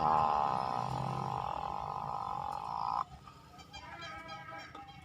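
A voice imitates the cooing of a zebra dove in a backyard breeding aviary: a sustained, droning, throaty coo for about three seconds, then it stops abruptly and fainter chirps and calls follow.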